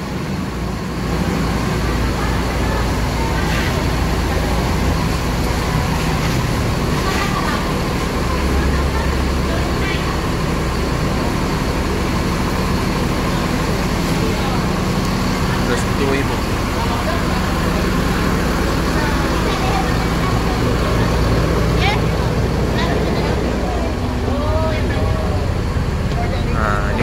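Steady roadway traffic and idling engine rumble around an Indonesian intercity bus about to depart, a constant loud drone with passing vehicles throughout.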